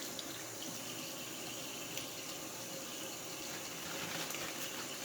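Tap water runs steadily over raw chicken wings being rinsed in a sink, a continuous splashing flow heard at moderate distance with no voices.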